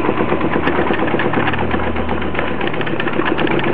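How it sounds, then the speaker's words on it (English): A Newman motor running at about 147 volts spins a paper fan, giving a steady mechanical whir with a fast ticking, rattling rhythm that stays constant and close throughout. "welcome to the latest Newman motor."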